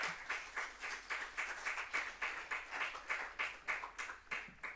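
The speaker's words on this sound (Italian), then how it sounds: "Accogliamolo con un applauso." Clapping from a small group welcoming a professor to the podium at a university lecture, a steady run of claps close by with a loose, pulsing rhythm and no talk over it.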